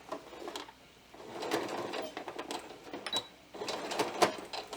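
A sewing machine back-stitches while attaching pixie wings onto a top, running in short close bursts separated by brief pauses.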